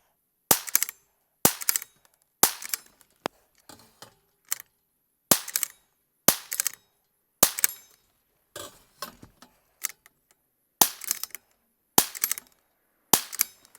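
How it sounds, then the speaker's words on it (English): Rim-X pistol gunshots during a 200-round reliability test, a long series of sharp, loud cracks fired in small groups with short pauses between, each followed by a brief echoing tail, with almost no talking. "I don't know if you guys can see this low. Doesn't matter. You hear the shots."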